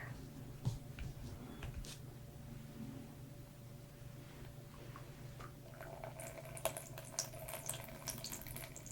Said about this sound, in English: So how many seconds can you hear the water?